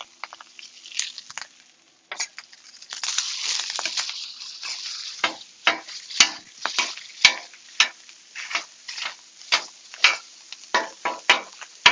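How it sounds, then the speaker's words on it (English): Rice and butter frying on a Blackstone griddle, a steady close sizzle with repeated sharp scrapes and taps of a spatula working the rice in an even rhythm, no talk. "I'm going to put the rice on. I'm going to put the butter on. And then we're going to work it in."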